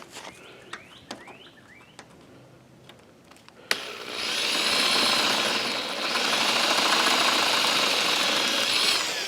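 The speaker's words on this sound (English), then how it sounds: "Let me drill this other side." A few light metallic clicks and taps, then a power drill whirs up loudly, drilling out a rivet on an RV camper awning, and keeps drilling steadily to the end.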